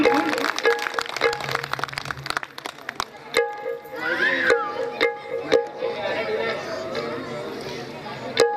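An audience claps for a singer at a stage performance. The applause is moderate and scattered, mixed with crowd chatter, and a voice speaks over a loudspeaker through much of it.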